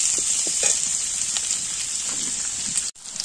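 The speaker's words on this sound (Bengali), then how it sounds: "একটু ভাজা হবে।" Oil frying in a pan during Bengali home cooking, a bright continuous crackling sizzle with a few soft knocks, close and steady, cutting off abruptly near the end before resuming.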